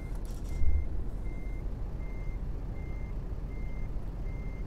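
Simulated truck in Euro Truck Simulator 2 backing up with a trailer, its reversing alarm beeping in a steady, evenly spaced rhythm over a constant low engine rumble.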